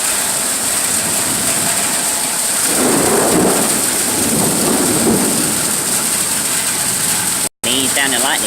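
Heavy rain pours steadily while a deep rumble of thunder rolls through the middle, loud and close, with a brief break near the end.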